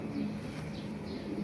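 Young racing pigeons coo softly in a loft, with low, rounded murmuring calls overlapping in a faint, steady background.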